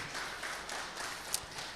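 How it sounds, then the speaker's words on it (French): Audience applause at an excellence awards ceremony, a moderate, steady patter of clapping from a seated crowd, slightly distant, with one brief sharper clap standing out near the end. "Applaudissez pour vous-même, s'il vous plaît."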